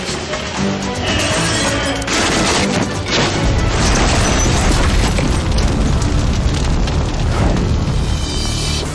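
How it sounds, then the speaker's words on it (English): A burning building's roof collapses onto firefighters inside, a loud, sustained crashing roar of falling flaming debris with heavy low rumble and repeated impacts throughout. "the roof crashes down, knocking the men to the ground and burying them under flaming debris"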